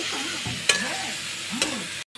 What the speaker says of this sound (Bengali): আমি একটু ভালো করে মায়ের হয়ে কষিয়ে দিচ্ছি মশলাটাকে